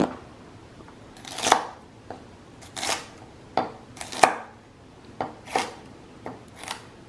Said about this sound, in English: That's such a satisfying chop noise.